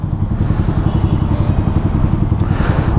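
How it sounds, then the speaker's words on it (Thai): A motorcycle engine roars loud and close with a rough, pulsing drone on a road. It holds fairly constant throughout, with no talk. "เดี๋ยวนี้มอไซค์ซิ่งเยอะครับ"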